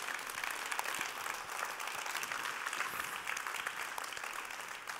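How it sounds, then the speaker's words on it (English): An audience at a technology conference bursts into sustained applause, dense hand claps forming a steady, full wash of sound for the whole stretch with no speech over it. "maybe we can give them a round of applause"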